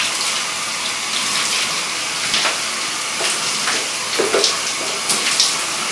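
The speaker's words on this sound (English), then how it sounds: "I'm going to get myself out of the shower water a little bit." Shower water running in a home bathroom, a loud continuous spray with small shifts and splashes as something moves through the stream, close by and with no talking.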